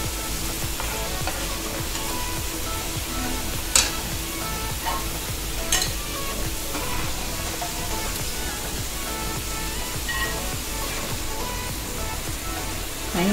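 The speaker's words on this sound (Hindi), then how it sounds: "बिल्कुल मैंने लो मीडियम फ्लेम पे इसको डीप फ्राई किया हुआ है।" Crispy corn kernels deep-fry in oil over a low-medium flame, giving a dense, steady bubbling hiss that runs throughout, with a couple of faint utensil taps.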